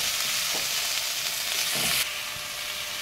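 Cauliflower stalks seasoned with salt fry in a pan as they are stirred lightly, a loud, dense sizzle with a couple of soft scraping strokes that eases slightly toward the end.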